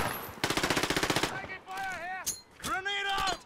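Rapid automatic gunfire in a shooting video game rattles in a steady burst, loud and close, followed by players' voices talking over the game sound.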